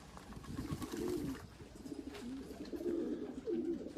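Racing pigeons coo steadily in a loft, with low, rolling, repeated calls from several birds overlapping close by at moderate volume over the full stretch.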